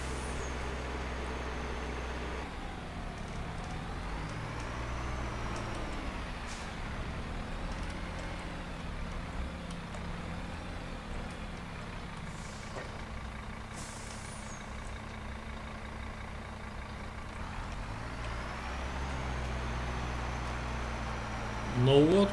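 In Farming Simulator 22 on the Zielonka map, a large rented tractor drives out to the field. Its engine drones continuously, with pitch rising and falling through gear changes, and a brief clatter comes at the end.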